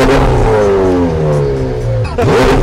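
A supercar engine pushed to life with a start button, its loud, close mechanical whir and rising tones ending in a sudden catch and roar.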